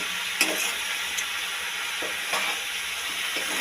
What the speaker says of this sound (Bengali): মোচাটা কষিয়ে নেওয়া হচ্ছে